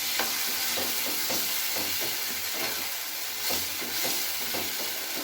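Tomato, peas, salt, turmeric, cumin and chilli powder sautéing in a wok, giving a steady close sizzle broken by regular spatula scrapes and stirring knocks.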